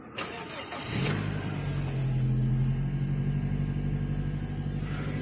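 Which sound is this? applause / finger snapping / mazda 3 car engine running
mazda 3 car engine running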